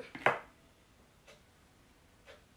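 A knife cuts olives in half on a board: one crisp chopping knock up front, then two faint, spaced taps in a quiet room.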